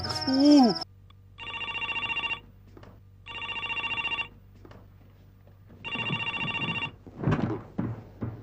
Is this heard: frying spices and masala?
no